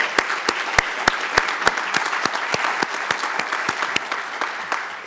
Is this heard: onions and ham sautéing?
no